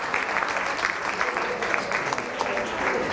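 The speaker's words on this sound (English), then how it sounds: "Another huge round of applause." A studio audience at a tai chi show in Honolulu gives a round of applause, a steady patter of many hands clapping at moderate volume for a few seconds without pause.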